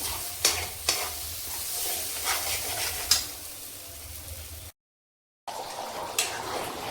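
Steady sizzling of chicken sautéing in a pan with a few sharp scrapes from stirring, close by, with a brief dropout partway through.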